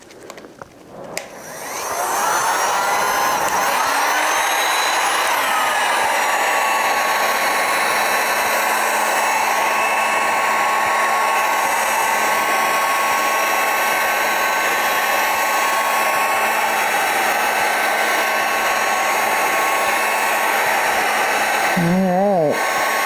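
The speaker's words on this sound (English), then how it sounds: "Got some of my heat gun and the resin there, got a little too close." A heat gun roars in a loud, steady blow over resin for a cake stand, starting after a short click and spin-up, holding an even whine for about twenty seconds, then shutting off and winding down at the end.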